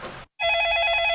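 A telephone bell rings continuously in a North Korean soap opera scene, loud and close, starting right after a brief woman's line and a short gap of silence.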